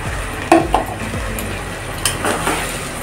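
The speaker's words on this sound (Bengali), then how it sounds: "চালটা দেওয়ার পর এইভাবে করে 1 মিনিট মতো চালটাকে মশলার সাথে ভালো করে নেড়ে চেড়ে মিশিয়ে নিতে হবে" A spoon stirs rice with spices in a cooking pan for egg biryani, giving light scraping and a few sharp metallic clinks at irregular intervals over a soft frying sizzle, close to the listener with no talking.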